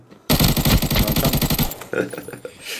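Automatic weapon fire in the video game Arena Breakout: a loud, rapid burst of close shots rattles for over a second, then trails off into quieter echoes with some talk.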